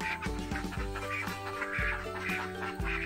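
Ducks on a small duck farm of about 46 birds quack in loud, repeated bursts close by, several calls overlapping with a busy farmyard murmur behind.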